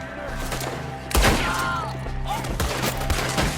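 Red Dead Redemption II gunfire in a shootout at enemies up in the trees: a loud burst of overlapping shots strikes near 1.1 seconds, then scattered further shots and thuds continue over a steady game background.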